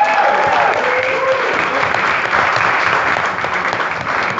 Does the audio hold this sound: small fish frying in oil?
no